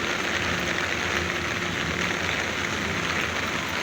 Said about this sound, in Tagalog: Yan, malakas na yung ulan.